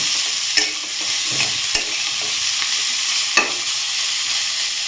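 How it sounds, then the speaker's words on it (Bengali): Broccoli soup with black pepper is stirred in a hot pan, giving a constant loud sizzle with a few sharp scrapes and taps from the spoon. "গোলমরিচটা দিই। হুম, নাড়াচাড়া করে এবার গরম জল দিই।"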